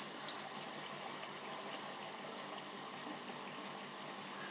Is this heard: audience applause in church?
no